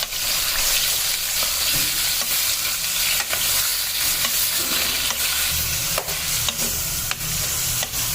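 Chicken pieces for karahi fry and sizzle loudly in hot oil, a steady crackling hiss carrying through with scraping stirs and small spatters throughout.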